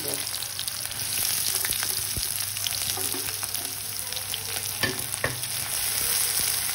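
Chopped onions fry in hot oil with tempered spices in a home kitchen, a steady close sizzle with occasional stirring scrapes and taps, no talking.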